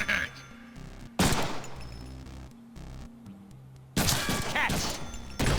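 Gunfire in the Deadpool video game, two loud bursts of rapid shots separated by a quieter stretch with game music and low background sound, heard without speech.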